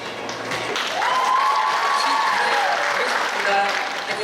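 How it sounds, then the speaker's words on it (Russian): Loud, sustained applause from an audience at a Miss and Mister BSU 2019 university pageant intellectual contest, swelling after the first second and holding steady throughout. "Аплодисменты громкие."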